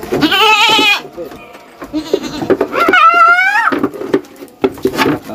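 Goats on a small farm bleat loudly and close by, two long wavering calls with shorter bleats between, while people talk nearby.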